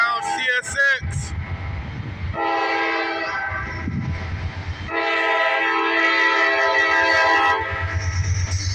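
A northbound CSX mixed freight train passes close by with loud, sustained multi-tone horn blasts and a heavy rumbling locomotive underneath, the horn sounding repeatedly over several seconds.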